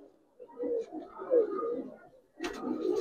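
Giribaz and coloring pigeons cooing close by, a few low rolling coos in two bursts separated by a brief pause, with a soft rustle at the start of the second burst.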